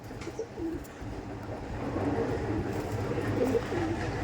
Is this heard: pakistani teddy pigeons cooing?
yes